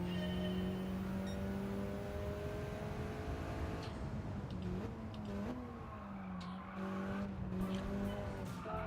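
A 4x4 car in Gran Turismo 7 runs steadily at a constant engine drone, with tyre scrubbing and short squeals as it slides across grass, the engine note wavering slightly, with no speech.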